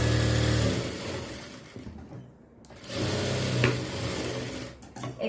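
A sewing machine runs steadily, close and fairly loud, stitching blouse fabric for a 36-inch cross-cut blouse with four tucks, with a brief slowdown midway before the whirring motor picks back up.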